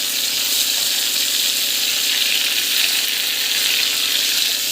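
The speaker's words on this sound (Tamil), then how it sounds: "டமாட்டோ ஆட் பண்ணிவிட்டு நல்லா வந்து வதங்கணும்" Chopped tomatoes with asafoetida sautéing in a hot pan, giving a dense and constant sizzle at close range with faint stirring beneath it and nobody speaking.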